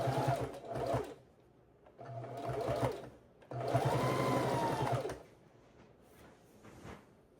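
A sewing machine stitches in the ditch along the edge of quilt binding, running in three loud bursts of rapid, steady stitching with short quieter pauses between them, up close and without talk.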